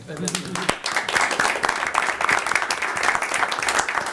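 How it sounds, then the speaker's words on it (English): A school committee meeting gives a championship school team and its coach a sustained round of applause, dense and steady throughout, with voices murmuring underneath. "So one more round of applause for them."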